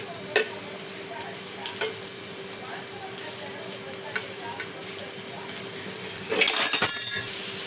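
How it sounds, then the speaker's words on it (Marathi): Bitter gourd pieces sizzling in a frying pan as they are turned over, a steady close crackle with spatula scrapes and clanks against the pan, louder metallic knocks near the end. "आणि बघा मी असे सगळे कारले असे पलटून घेणार आहे"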